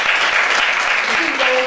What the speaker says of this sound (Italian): Un applauso a Matteo